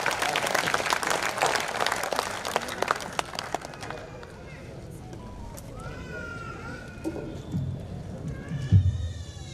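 Crowd applause at a Hindi kavi sammelan in Udaipur, loud dense clapping for about four seconds that fades away, followed by quieter room noise with a voice speaking near the end.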